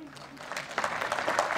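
Applause rises at a Calvados Habitat convention, starting light under a voice and swelling into fuller clapping in the last second, close and brief.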